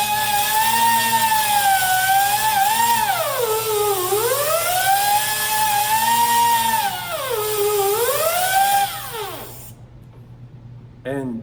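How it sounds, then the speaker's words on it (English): A close, loud, whining polishing pad buffs a hammer head, running steadily, its pitch sweeping down and back up several times before it winds down near the end. "You can just let the pad skip across the head of the hammer"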